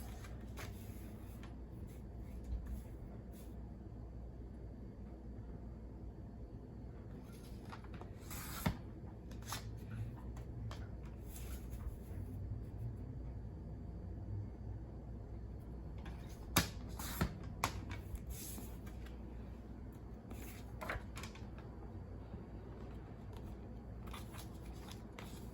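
Card stock for a handmade greeting card is trimmed down to size in an indoor crafting space, with intermittent crisp snips and paper rustles over a steady low hum.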